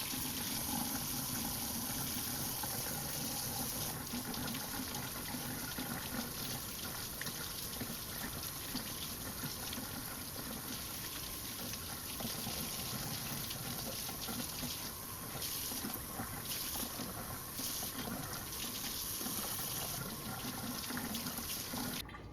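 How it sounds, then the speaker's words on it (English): Water runs steadily from a kitchen tap while chicken is prepared for boiling, a continuous faint hiss and splash lasting the whole stretch with no talking. "Oh, water."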